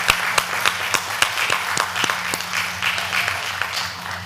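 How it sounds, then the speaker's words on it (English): Audience applause after a talk by Professor Prescott at an academic event, moderate and steady with scattered sharper claps, a low hum underneath. "Let's give Professor Prescott a round of applause."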